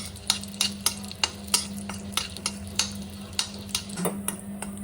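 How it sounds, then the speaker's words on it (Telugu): Raisins frying in ghee for rava kesari purnalu, a low sizzle carrying a steady rhythm of sharp ladle taps and scrapes against the pan, close and evenly spaced. "తర్వాత కొంచెం కిస్మిస్ అది కూడా ఇలాగా ఒక సెకండ్ నేతిలో వేయించాలి"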